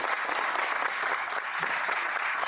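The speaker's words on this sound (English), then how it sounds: "You hear that clapping?" Dense, sustained applause from a large audience fills the whole stretch, steady and loud without pause.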